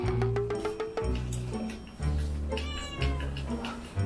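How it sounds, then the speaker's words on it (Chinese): A cat meows repeatedly in short, close, loud cries with a few breaks between them, while background music plays underneath. "猫咪来了，"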